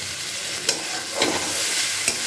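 A spatula stirs thick, sticky long bean paste in a hot pan, making a soft continuous sizzle with a few brief scraping strokes, close and alone.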